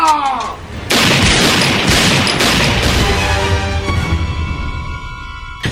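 Loud gunfire bursts out, a heavy continuous barrage of shots and booms that keeps going for several seconds, close and harsh.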